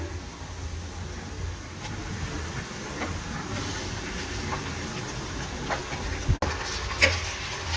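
Chicken pieces hissing and sizzling in a pan with onion, garlic and ginger fried golden, a steady broad frying hiss with a few clanks and scrapes, one sharp knock near the end.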